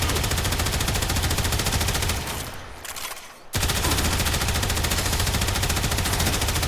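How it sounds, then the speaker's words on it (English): An auto rifle kitgun in the video game Warframe firing in rapid sustained bursts, a dense, loud stream of shots that cuts out briefly, then resumes at full intensity. "This is the auto rifle."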